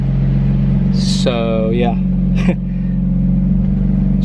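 A BMW F80 M3 with an Active Autowerke resonated equal-length mid pipe idling close by, one exhaust valve held open, giving a steady low rumble while someone speaks briefly over it.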